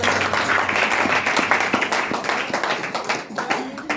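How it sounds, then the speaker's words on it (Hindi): Enthusiastic applause from a meeting audience, many hands clapping in a dense, steady stream with a faint voice underneath. "हम चाहें कि उनके लिए जोरदार ताली"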